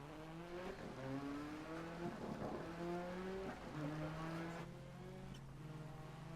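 A rally car roars through a video game replay, its engine rising and falling through gear changes with tyre squeal and skidding, loud and steady throughout with no voices.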